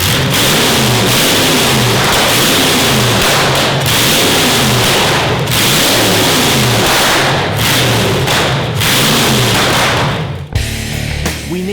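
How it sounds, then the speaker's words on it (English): A modified car's engine drives the wheels as the clutch is released, revving loudly and close by with throbbing, pulsing strain for about ten seconds before abruptly cutting to a quieter idle. "by releasing the clutch and allowing the engine to drive the wheels, it means we know it's going to work"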